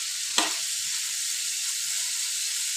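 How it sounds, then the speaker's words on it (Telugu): Small beetroot pieces fry in a pan with a steady, close sizzling hiss, and a single clink of a utensil sounds near the start. "ఇప్పుడు బీట్రూట్ అయితే ఇట్లా ఫ్రై అవుతుంది కదా"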